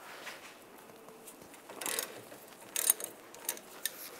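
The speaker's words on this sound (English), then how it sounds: "We're gonna take the bottom sway bar link bolt out, use a 16 millimeter socket." A socket ratchet with a 16 mm socket clicks as it loosens the lower sway bar link bolt on a 1999-2005 Volkswagen Jetta, with short bursts of ratcheting over a quiet shop background and no talking.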